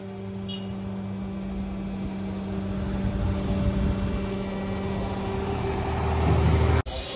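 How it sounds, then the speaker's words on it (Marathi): The hydraulic system of a band truck lowers, producing a steady mechanical hum with a constant low drone that rises slightly before stopping abruptly near the end. "मित्रांनो, आता हायड्रॉलिक खाली करताय दादा ते."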